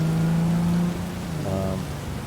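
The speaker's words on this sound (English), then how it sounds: "I think it's the first time I actually have it rain." Rain in the Cyberpunk 2077 city on Xbox Series X, a soft continuous hiss running beneath engine-like hums and tonal game sounds, moderately loud throughout.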